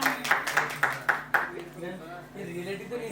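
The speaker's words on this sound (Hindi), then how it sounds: "मैम के लिए एक बार जोर से ताली हो जाए।" Six sharp, evenly spaced claps from a small audience for a woman performer who has just told a joke at a student talent show, then the claps stop and a voice starts talking.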